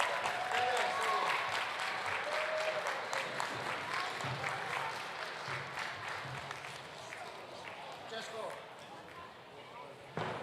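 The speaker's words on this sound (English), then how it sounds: "Big round of applause for our 3 podium winners." Sustained applause and clapping from a crowd for the podium winners at a national karting final for cadets, with someone talking over the steady clatter of hands.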